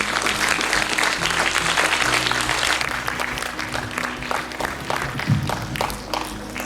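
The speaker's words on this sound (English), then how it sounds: "Can we give a round of applause please to Andy and our two non-finalists?" Audience applause at a primary school prose reading competition, a dense steady roar of many hands clapping that fills the whole stretch and eases slightly toward the end, with a low hum beneath.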